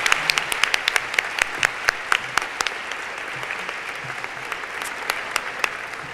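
An audience breaks into warm, steady applause to welcome MC Natalie Morales onto the stage at an evening event. The clapping is dense and sustained, with sharp individual claps standing out near the listener throughout.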